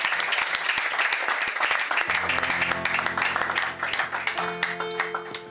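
A church congregation claps and applauds for Jesus in dense, sustained applause, with music tones rising in beneath it partway through.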